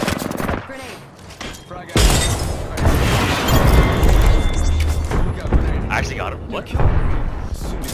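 A grenade explodes and guns fire in the Apex Legends video game, a loud blast followed by sustained crackling gunfire, while players talk over the action.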